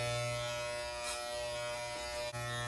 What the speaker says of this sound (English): I'm back to my half-inch trimmer. Just gonna smooth that back a little.